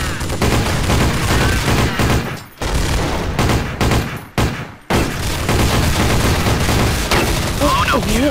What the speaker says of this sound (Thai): กล่องนมกับขวดน้ำก็ยิงกระเด็นเลย